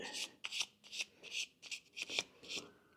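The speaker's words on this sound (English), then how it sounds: "Lacquer thinner and a little wire brush. Seems to be working pretty good." Small wire brush scrubbing a Dana 44 rear axle part from a Scout with lacquer thinner, heard as short rhythmic bristly strokes in bursts, fairly close and moderately quiet, with no talking.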